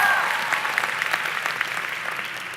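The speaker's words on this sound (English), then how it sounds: "give yourself a round of applause" Sustained audience applause at a 2017 CSSW commencement ceremony, a dense steady wash of many hands clapping that fades slightly toward the end, with no talking over it.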